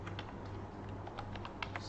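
Rapid clicks of computer keyboard keys as a sum formula is entered into a spreadsheet, irregular close taps over a steady low hum, no voices.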